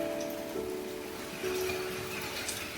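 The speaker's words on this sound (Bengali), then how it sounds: "এখন কি বৃষ্টি হচ্ছে জোর একদম" Heavy rain at night falls as a dense, steady hiss of drops, constant and fairly loud with no voices.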